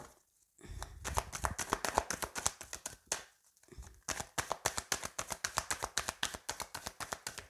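A deck of tarot cards being shuffled before a card draw, heard as rapid rhythmic riffling flicks in two bursts separated by a short pause, close and fairly quiet with no speech.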